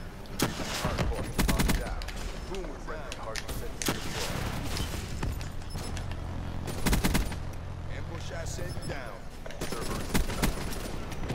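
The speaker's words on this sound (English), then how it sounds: "I'm using a shotgun." Shotgun blasts and other gunfire from the video game Black Ops 3 in a dense, busy firefight, repeated bursts over a steady game soundscape with talk mixed in.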